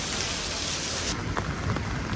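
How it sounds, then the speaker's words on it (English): Heavy rain pours steadily in Singapore, a dense, loud hiss of drops on surfaces that continues without a break. "Kind of heavy rain today."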